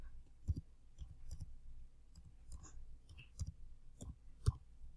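Keys tapped on a computer keyboard while a password is entered, giving a run of soft, irregular clicks spaced unevenly over a few seconds, fairly close and quiet with no voices.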